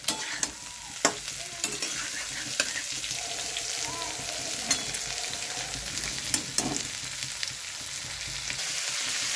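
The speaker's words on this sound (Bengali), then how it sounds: "আর একটুখানি ভাজা ভাজা হবে।" Food frying in a pan, a steady close sizzle broken by sharp clinks and scrapes as it is stirred.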